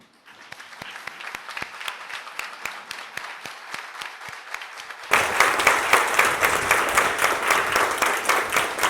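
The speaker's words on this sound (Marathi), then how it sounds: "आपण आपल्या जागेवर उभं राहूया आणि एवढ्या जोरात टाळ्या वाजवूया की त्या त्यांच्यापर्यंत नक्की पोचतील" A standing audience at a talk series event claps, first as sparse, sharp individual claps and then as a sudden louder burst of full, sustained applause.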